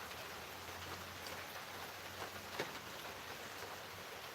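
Steady rain hisses in the background, an even wash of drops with no breaks, faint, with one slightly sharper patter near the end.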